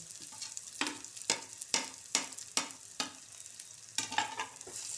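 Crab masala with tomato, ginger-garlic paste and dried coconut paste is stirred and sautéed in a pan over low heat, giving a quiet sizzle broken by a steady run of scraping spoon strokes.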